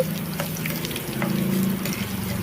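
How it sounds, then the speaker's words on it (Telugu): Close, continuous sizzle of a cumin tempering frying in hot oil on low heat, a soft crackling hiss with no voices. "దోరగా ఫ్రై చేసుకోవాలన్నమాట ఈ తాలింపు"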